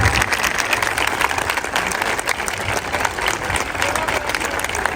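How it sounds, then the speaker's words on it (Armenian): An audience applauds at an International Dance Day event in Yerevan for Mr. Ginosyan, a dense sustained clapping from a large crowd, loud and even throughout with a faint murmur beneath. "Եկեք մի հատ առանձին ծափահարություններ պարոն Գինոսյանին"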